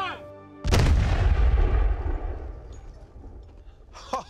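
A cannon fires period-accurate ammunition in one huge, deep boom that rolls and rumbles away for a couple of seconds, followed by a brief voice near the end.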